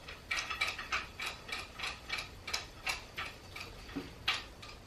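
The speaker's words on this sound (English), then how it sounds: "There's the second caster wheel going in." A caster wheel is screwed into a metal storage shelf, giving a steady series of quiet ratcheting clicks at a regular rhythm, close by.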